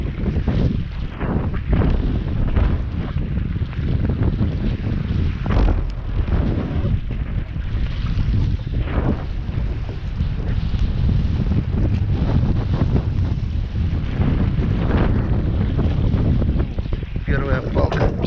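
Fierce wind blows outdoors, roaring steadily across the microphone for the whole stretch in a dense, unbroken rush with gusty surges and occasional muffled bumps.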